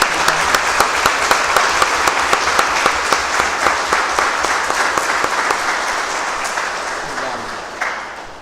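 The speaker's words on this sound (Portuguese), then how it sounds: "Mas eu queria convidá-los a bater uma salva de palmas para o músico." Audience applause for a musician at a church youth gospel event in Campos, RJ: loud, dense clapping from a crowd that holds steady, then gradually thins and fades toward the end.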